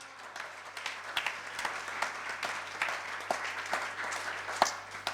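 Scattered, uneven clapping from a small audience at a Jain religious discourse, individual claps popping out sharply over a thin, patchy background.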